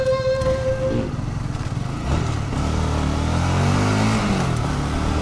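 A Honda CBR 150R motorcycle engine revs and pulls while riding, the tone climbing and shifting through acceleration, loud and close beneath steady wind rush.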